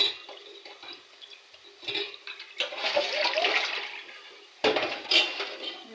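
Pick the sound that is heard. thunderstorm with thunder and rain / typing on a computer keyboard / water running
water running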